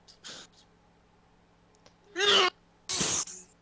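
A couple of sharp, breathy sneezes close by, the second one louder, after a brief murmur at the start.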